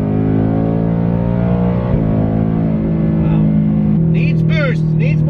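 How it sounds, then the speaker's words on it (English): A 2024 Ford Mustang GT engine droning steadily as it is pushed hard in third gear, with a rising harmonic engine tone and a shift around four seconds, loud and close, with a person talking over it. "So we can just gear down with the paddles. So like third gear and nail it."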